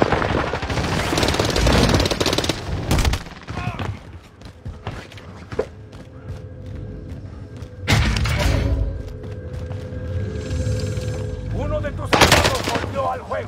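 Bursts of rapid gunfire and single shots crack through a first-person shooter video game as the player comes under fire, loud and dense with brief lulls, thuds and a voice speaking between volleys.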